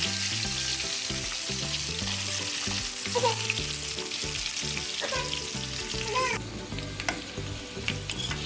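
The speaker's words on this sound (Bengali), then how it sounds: "দেখো আলুটা ভাজা হয়ে এসছে" Potatoes coated in salt and turmeric fry in a pan for a home-cooked birthday dinner, giving a steady, close sizzle with crackling and occasional stirring scrapes throughout.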